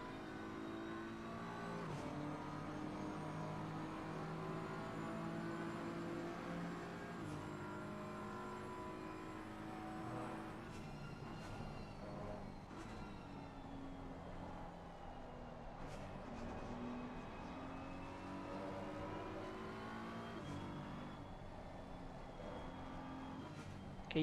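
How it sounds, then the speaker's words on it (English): BMW GT3 race car lapping Suzuka in a racing game, its engine droning and shifting pitch continuously through corners and over curbs, steady and close with no pauses. "the BMW negotiating the curbs beautifully"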